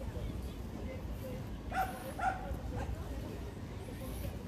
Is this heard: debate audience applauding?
no